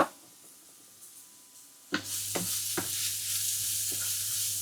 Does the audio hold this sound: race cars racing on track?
no